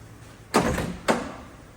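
A door on a 1946 Willys Jeep gives two quick close metallic clunks about half a second apart, each fading out briefly, with no talking.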